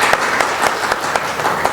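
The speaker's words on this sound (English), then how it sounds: "Please give a big round of applause for that." Audience applause for a doctor on a women's health panel at a hospital event, a steady dense wash of many hands clapping at moderate loudness with no talk over it.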